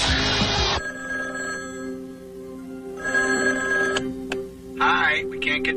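A telephone rings in repeated electronic bursts, loud and close, with a voice briefly audible between rings.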